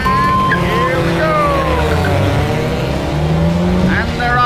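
Race cars pull away from a starting grid, engines rising and tires squealing loudly and up close, with overlapping pitch sweeps as several cars accelerate.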